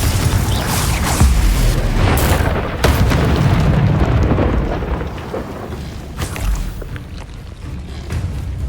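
Loud, booming spell blasts from the Confringo fire spell in Hogwarts Legacy, a rolling series of heavy explosive bursts layered with game music and rumbling impact noise during a dragon rescue battle.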